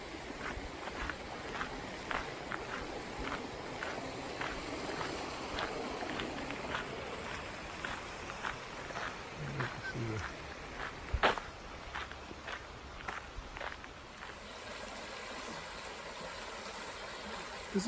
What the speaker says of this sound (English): You see the little river running right through it here, the creek.